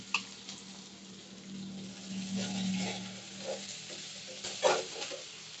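Cumin and garam masala sizzle in a hot pan, a soft, steady frying hiss with occasional stirring scrapes and brief clinks, close and fairly quiet.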